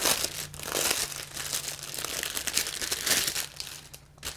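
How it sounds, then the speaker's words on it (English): Plastic packaging crinkles and rustles close up as a cloth hair wrap is pulled out of it, a continuous irregular crackling at moderate volume. "let me get it out of the plastic."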